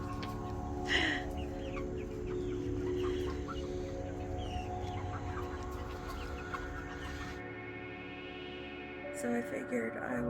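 Chickens in a backyard flock cluck and chatter faintly in the background, with a brief louder squawk near the start, while a voice talks over them.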